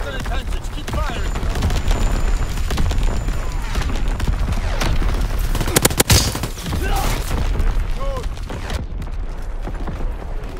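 Artillery and gunfire in a World War 2 video game, dense continuous booms and rattling shots with a sharp loud blast near the middle, mixed with game voices and battle noise throughout.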